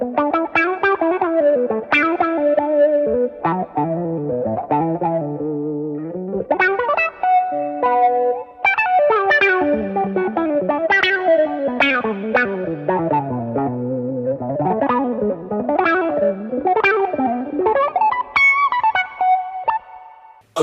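Electric guitar played through a Boss GT-1000 multi-effects patch with touch wah, chorus-like modulation and light drive, a continuous melodic line of sliding, swelling notes that runs loud and steady for the whole stretch with no talking.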